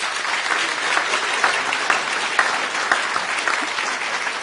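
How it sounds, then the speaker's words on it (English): An audience at a talk on the presidency in Glenties gives a host a big round of applause, steady dense clapping with a few sharper claps standing out, loud and close. "Please give a huge round of applause for Dearbhail McDonald"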